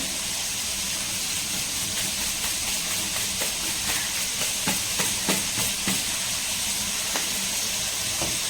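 Onions sauté with salt in a hot pan, giving a steady, loud sizzling hiss with a few brief crackles and pops and no talking.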